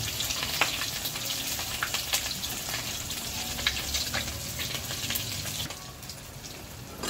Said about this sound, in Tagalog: Pero magpiprito rin tayo ng tilapia para sa ating ano, paterno ng ating gulay.